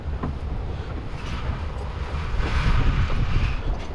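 A sailing boat pitches through big waves and strong wind off Anglesey, with continuous wind roar buffeting the microphone and water surging and splashing, growing louder toward the end, with no voices.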